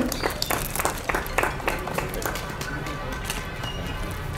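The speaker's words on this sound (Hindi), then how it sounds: "जोरदार तालियों से हम सर का स्वागत करेंगे" Applause welcoming an honored guest at a desert painters' camp event, a crowd clapping steadily in a dense patter with scattered sharper claps, moderately loud throughout.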